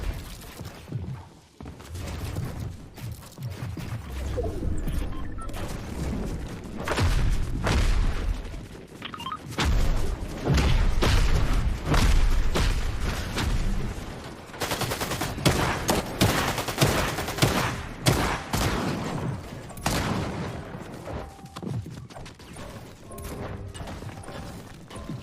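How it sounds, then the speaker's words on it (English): Rapid bursts of gunfire and crashing structure breaks in a Fortnite Battle Royale build fight, dense and continuous with repeated loud impacts and mechanical clatter throughout, no talking. "I shot the last piece that was holding the build fight up and then ran"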